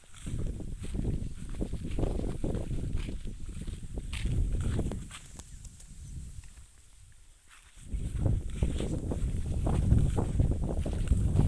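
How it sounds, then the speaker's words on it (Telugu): A gentle wind blows over open farm fields, rumbling against the microphone in soft gusts that ease off and then swell again, with no voices. "మంచి ప్రశాంతంగా ఒక గాలి వస్తుంది"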